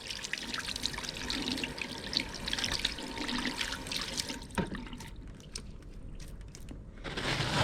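Hands being rinsed of soap under a running tap at a cell culture lab sink: a steady, close stream of water with small splashes, dipping briefly midway before running on, with no talking.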